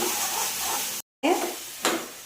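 Tamarind-jaggery chutney being stirred into a sizzling dabeli filling in a pan, steady frying hiss broken by a brief gap, then scraping stir strokes near the end.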